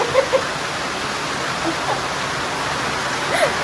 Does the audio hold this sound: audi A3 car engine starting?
no